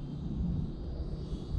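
The electric motor of a Freewing Pandora RC airplane runs steadily as the throttle is advanced in flight, a continuous buzzing drone heard from a distance in light wind, with no talking.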